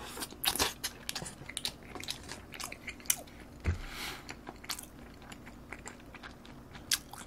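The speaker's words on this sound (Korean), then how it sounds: "자, 초장에다 한번 찍어 먹어볼게요" Tuna sushi dipped in chojang is bitten and chewed close to the mic, giving soft, quiet crunching and wet mouth sounds in irregular bursts.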